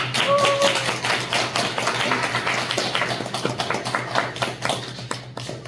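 A church congregation applauds at a scholarship ceremony with dense, sustained clapping close by, many hands overlapping into a continuous patter that thins out toward the end.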